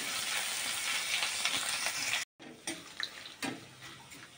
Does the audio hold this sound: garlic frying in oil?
yes